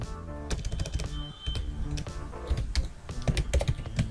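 Rapid clicking keystrokes on a computer keyboard while PHP code is typed, a dense, close, continuous patter of taps with uneven bursts and no talk.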